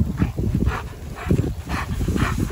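Oscar, a working service dog with a female handler, gives a run of evenly spaced barks, about five close, fairly loud bursts in quick rhythm.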